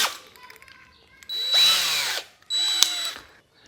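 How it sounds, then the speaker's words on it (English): A power drill driving a floating shelf bolt, with two short bursts of high whining motor spin separated by a pause, close and loud, after a few faint clicks of handling. "this can be hooked up to the drill,"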